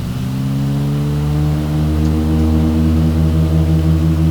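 Aero Commander 500 twin-engine plane in a flight simulator, its engine throttling up with a rising harmonic drone that climbs in pitch and grows louder over a few seconds, heard without any voice.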